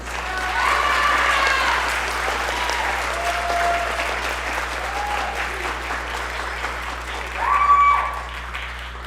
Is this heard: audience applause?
yes